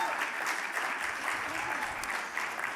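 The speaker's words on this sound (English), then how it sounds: "Would you please give them a round of applause as well, because they've worked very hard." Audience at a winter plenary meeting claps for hardworking staff members, a steady, even round of applause at moderate distance with no breaks across the clip.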